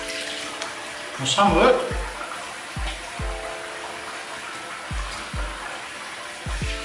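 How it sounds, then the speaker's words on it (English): A bathroom tap runs water steadily while shaving lather is rinsed off a face, with splashing and a few soft knocks over a continuous gentle flow. A voice speaks briefly over it. "we'll rinse that off"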